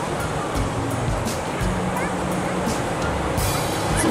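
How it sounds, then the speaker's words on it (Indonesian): Surf washing onto the beach at Pantai Kata in Pariaman, a steady broad rush of breaking waves with wind noise on the microphone, continuous and moderately loud throughout. "Kita nungguin di pantai"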